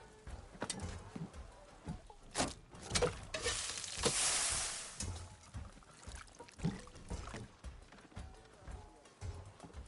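Sizzling and stirring from a cooking scene in Horizon Forbidden West, with scattered clatter and swelling frying hiss under intermittent talking.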